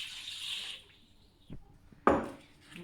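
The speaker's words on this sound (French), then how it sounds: "on va verser l'eau dans un grand saladier" Water poured into a large salad bowl while making bread, a steady splashing pour that stops, followed by a short knock and a brief clatter of the bowl, close and fairly quiet.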